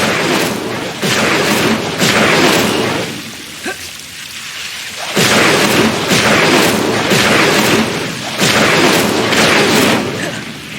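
Fiery spell explosions from the Incendio attack in the Hogwarts Legacy video game, loud repeated bursts in roughly second-long waves with a brief lull in the middle, no talk.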